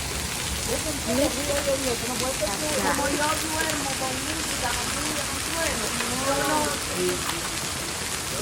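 Hail pelting down in Greeley, a steady dense patter of ice on surfaces close by, with a person speaking briefly over the continuous rattle.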